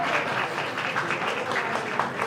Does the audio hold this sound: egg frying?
no